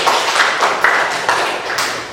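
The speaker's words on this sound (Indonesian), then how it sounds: "Tepuk tangan buat Mbak Naila." A small classroom group claps for a student, a brief uneven patter of hands that comes in several rough bursts before tapering off.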